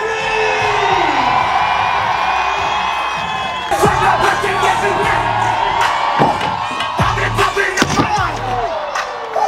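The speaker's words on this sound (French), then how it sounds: "On applaudit Bibi s'il vous plaît." A contest crowd cheers and whoops loudly, with voices swelling and bursts of shouting over sharp bangs and slaps in the second half, dense and continuous.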